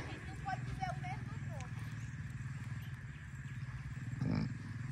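Horses gallop on a track at Parque Guarani, their hooves drumming in a steady rapid rhythm under a constant rumble, with people talking faintly over the hoofbeats.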